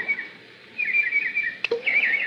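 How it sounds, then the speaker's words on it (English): Small birds at a backyard fish pond give high, thin chirps and twittering calls in short bursts, with one sharp click partway through, close and clear over a quiet background. "birds playing in the fish pond"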